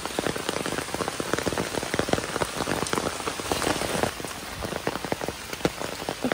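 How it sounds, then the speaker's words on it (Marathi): Steady rain on a surface at a wet outdoor fishing spot, a dense continuous patter with many distinct drops, moderately close and unbroken throughout. "पाऊस लागला इथे."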